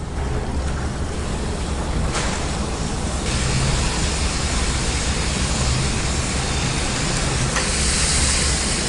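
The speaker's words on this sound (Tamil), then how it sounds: "இப்போ இதை வந்து டீப் ஃப்ரை பண்ணி எடுத்துக்கலாம்." Palm jaggery biscuits (sweet rotti) deep-fry in hot oil with a loud, dense, unbroken sizzle that holds steady throughout, with no voices.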